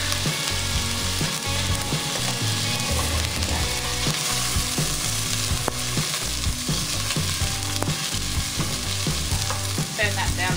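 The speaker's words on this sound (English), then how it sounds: "So you put a little bit of olive oil in there. We've just whacked the onion in." Onion sizzles steadily in olive oil in a home kitchen pan, a continuous crackling fry broken by occasional scraping stirs and clinks, close and alone without talk.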